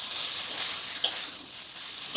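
Taro leaf saag cooking in ghee in a pan, a steady soft sizzle and stirring hiss with one brief clink of the spoon midway, close by and without voices.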